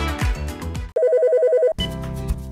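A telephone bell rings with an incoming call, a steady repeating electronic trill that sounds alone for under a second between stretches of background music.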